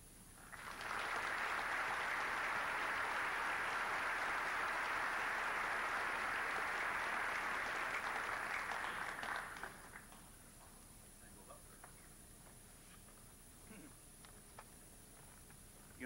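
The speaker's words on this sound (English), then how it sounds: "that burst of applause that always follows the introduction of the speaker" An audience at a forum on international affairs breaks into applause after a speaker's introduction, a dense steady clapping for about nine seconds that cuts off abruptly into quiet room murmur.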